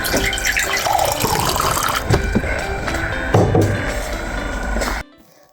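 Water runs from a tap into a drinking glass, a close, continuous splashing and filling sound with some clinks, stopping abruptly near the end.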